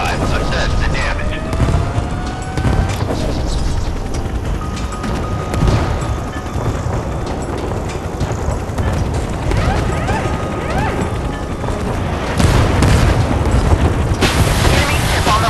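In the Force of Warships naval game, ship guns boom and shells crash and explode repeatedly. The blasts are loud and close, come in irregular bursts over rumbling battle noise, and are overlaid by radio-style voice callouts.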